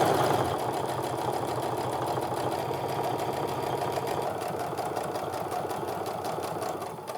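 A sewing machine runs a second line of stitching along a beginner-friendly fabric wristlet, a steady, continuous mechanical whir with rapid rhythmic needle pulses, close and even throughout with no talking.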